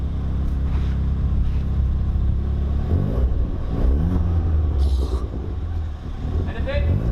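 Ford Fiesta ST engine idling low and then revving up in short bursts, heavy rumble close by with people talking over it.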